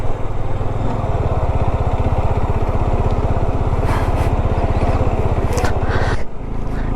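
A motorcycle rides up the steep, high-altitude Umling La mountain pass. Its engine drones loud and close the whole time with a steady, rough pulse, along with bursts of wind buffeting and scraping noise toward the end.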